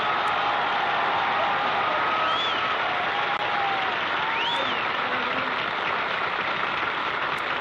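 Studio audience at a 1960s TV bowling game show breaks into sustained, even applause, a dense unbroken wash of clapping from a full crowd, with no one speaking over it.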